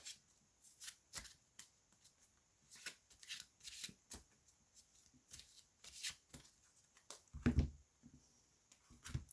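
An angel oracle card deck being shuffled close up, quick papery riffles and slaps in irregular bursts with short pauses, one louder flurry near the end, quiet and without speech.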